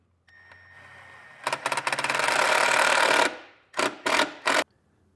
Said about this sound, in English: I'm going to do that using the included self-tapping screw